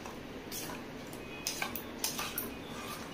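Milk is stirred into a beaten egg and sugar mixture in a bowl, with a few light clinks and scrapes of a utensil against the bowl over a quiet background hiss.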